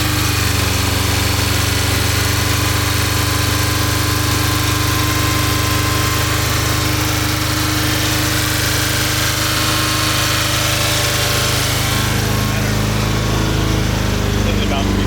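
A Porsche 924 Turbo engine held at about 3,000 RPM with a slight misfire, a loud, close, continuous drone with steady harmonic tones that eases slightly near the end.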